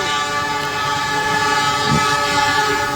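At a railway level crossing, a train horn blares in a loud, sustained warning blast over the deep rolling rumble and clatter of the passing train, close by and continuous.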